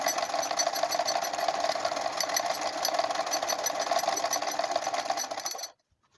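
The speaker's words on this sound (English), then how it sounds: "So you go ahead and sew the second side as well." A sewing machine stitches the second side of a tote bag, running in a steady, fast, continuous whir close by for several seconds before stopping abruptly.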